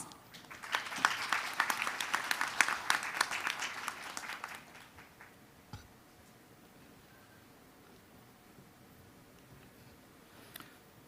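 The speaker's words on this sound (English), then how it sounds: "let's welcome His Excellency with a big round of applause" A conference audience at a bio summit claps for a visiting official, a dense burst of applause lasting about five seconds before fading to near-silence, with a faint tap afterward.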